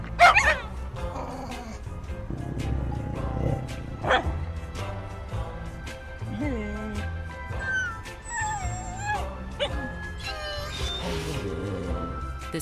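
A dog barks, yips and growls in a car commercial for the Subaru Crosstrek, with sharp close barks scattered among playful whines and yelps, mixed with other animal-like squeaks and light background sound.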